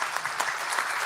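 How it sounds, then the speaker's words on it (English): An audience at a high-level opening session of a science diplomacy symposium bursts into steady, dense applause, a short wash of many hands clapping at moderate volume with no voices over it. "That deserves a round of applause."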